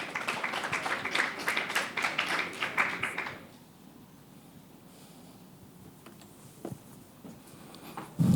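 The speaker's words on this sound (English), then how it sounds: "Let's give him a round of applause as he comes forward." An audience gives a round of applause to a moderator coming forward at a women's tourism leadership session, dense clapping for about three seconds, then it drops away to a quiet room with a few faint knocks.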